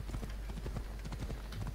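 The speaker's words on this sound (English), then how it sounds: "Teleport horse. Wait, come back! Off we go!" Horse hooves clip-clopping at a steady trot in the Assassin's Creed Odyssey video game, a quick even rhythm of soft hoof beats.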